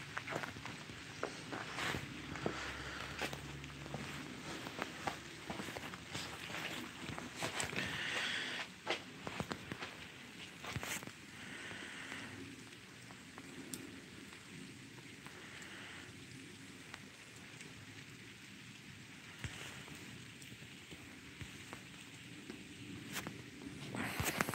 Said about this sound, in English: It's not even rain. It's freezing rain.